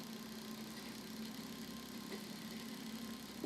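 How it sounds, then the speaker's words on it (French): A hoverboard hub motor driven by a ZS-X11H controller hums steadily under braking, a constant mid-pitched drone with a fixed tone and faint electrical buzz, unbroken throughout. "Je recommence à freiner le moteur."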